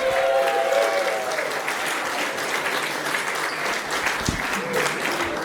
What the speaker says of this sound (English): Make a lot of noise for Julian Monk!